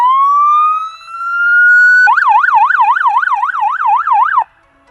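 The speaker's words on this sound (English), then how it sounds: "We also have sirens." Police motorcycle siren, loud and close: a rising wail sweeps upward for two seconds, then switches to a rapid warbling yelp that repeats until it stops sharply.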